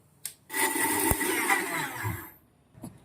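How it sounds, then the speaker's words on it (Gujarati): A kitchen mixer grinder whirs loudly for about two seconds, grinding a masala of green chili, ginger, garlic cloves, salt and turmeric, then stops; a faint click comes before it and a small knock after. "મિક્સરને બંધ કરું છું અને આને આપણે પીસી લેવાનું છે"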